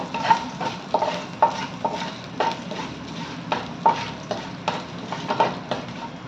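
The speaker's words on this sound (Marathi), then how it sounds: "थोडासा लसणाचा कच्चेपणा जाईपर्यंत परतून घ्यायचे आपल्याला." Garlic and vegetables stir-fried in a hot pan for veg hakka noodles, a steady sizzle broken by a spatula scraping and tossing in a loose, repeating rhythm, close and fairly loud, with no talking.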